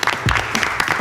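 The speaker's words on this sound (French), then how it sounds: "On peut faire un tonnerre d'applaudissements pour Henri." A studio audience claps for an invited guest, a brief, loud patter of many hands with crowd murmur underneath.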